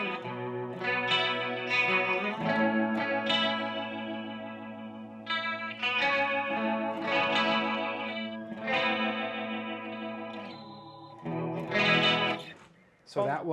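Electric guitar fed through an Alexander Sugarcube pedal in rotary mode, chorus-like swirling chords and melodic phrases played continuously and up close, with no talking.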